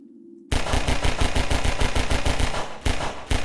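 Rapid pistol fire in Half-Life 2, a fast, evenly spaced run of loud close shots that starts abruptly and continues for about three seconds with a brief break near the end.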